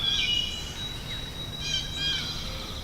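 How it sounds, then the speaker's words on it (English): Several birds chirp and sing in the open air over a lake at Blue Marsh Lake in the morning, with thin high whistled calls rising and falling across the short stretch. "it's just beautiful out here. So many birds singing."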